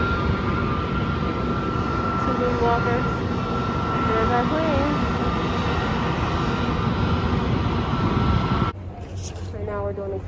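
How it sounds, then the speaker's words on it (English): An airliner taxiing in to an airport gate, a loud steady engine roar and whine that drops off sharply near the end, with a person speaking briefly over it. "the plane is pulling in"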